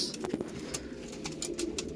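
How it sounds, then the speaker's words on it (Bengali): A pair of young Kalshira pigeons coo close by in a low, steady murmur, with faint rustling and a few soft clicks over a continuous background hum. "দেখুন এই একজোড়া পায়রা বাড়ির বাচ্চা কালশিরা পায়রা বা ফুলশিরা যেটা আপনারা বলেন"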